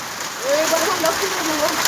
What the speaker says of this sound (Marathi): पहिलाच पाऊस एवढा खतरनाक आहे.